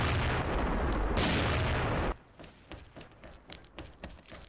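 Gunshots in the online shooter XSHOT: a dense, loud barrage of blasts for about two seconds, then cuts off abruptly into scattered, quieter sharp shots and taps.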